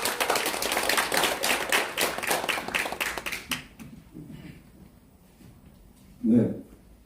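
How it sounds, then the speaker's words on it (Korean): At a Korean political gathering, an audience claps in a brisk burst for about three and a half seconds before it dies away, leaving quiet room tone and a short murmur of voice. "모두 큰 박수 부탁드립니다."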